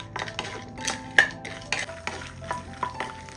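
Peanuts roasting in a pan over a medium flame, stirred continuously with a spoon that scrapes and taps the metal in an irregular rhythm beneath a soft, steady sizzle, close and moderately loud.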